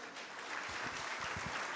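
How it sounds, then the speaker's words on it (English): At the KEPSA 10th anniversary celebration, an audience applauds award recipients during a group photo, giving sustained, even clapping from many hands with a few low thumps underneath and no talk over it. "A big round of applause for them again."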